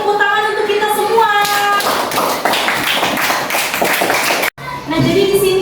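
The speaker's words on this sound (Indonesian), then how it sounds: "tepuk tangan untuk kita semua" A classroom of students clapping together, a dense, steady burst of many hands at close range that runs for several seconds, with a short break near the end, and voices mixed in underneath.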